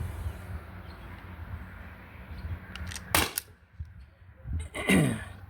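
A modified T4E HDP50 Gen 2 pistol on a CO2 tank with a 1mm drilled restrictor and no valve block fires 8.4 gram steel ball bearings: two sharp, close cracks about two seconds apart over a low background hum.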